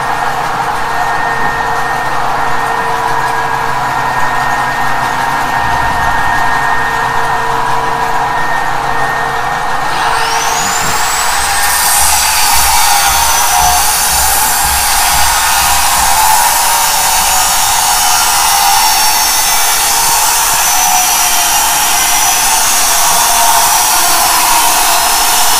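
A motor drives two generators rated 20 kW and 10 kW at very high speed, producing a loud, continuous whirring hum that rises in pitch partway through and then holds steady.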